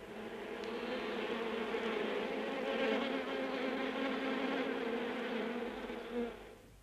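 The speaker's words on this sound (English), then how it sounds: "Brother Adam's super bees begin the final harvest of the year amid the honey fields of Dartmoor" Honeybees buzz steadily around hives set among the honey fields of Dartmoor, a dense, continuous drone of many insects at moderate distance with no voices.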